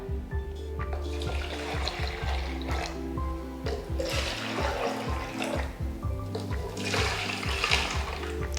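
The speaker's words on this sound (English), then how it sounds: "I'm going to add water" Tap water pours into a plastic bottle being made into a homemade mosquito trap, a continuous close splashing stream with a rhythmic mechanical hum underneath and no talking.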